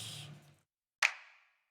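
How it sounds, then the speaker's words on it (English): A single sharp snap sample from a mixed hip-hop track rings out alone with a short bright tail after a brief stretch of fading music. "There is a clap, which sounds like this."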